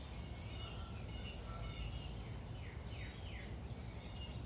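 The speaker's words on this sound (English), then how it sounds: "listen to the birds waking up, starting their day" Birds chirp and sing softly at a distance, scattered high calls and short trills drifting over a quiet, hushed outdoor background.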